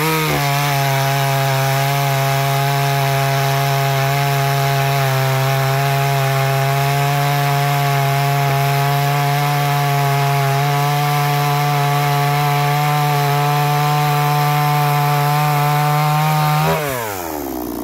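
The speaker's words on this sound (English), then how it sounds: "Try use chainsaw power." A ported 45cc Chinese chainsaw runs at steady high revs, cutting through wood with a loud, continuous harmonic whine that holds for about sixteen seconds before the engine drops off at the end.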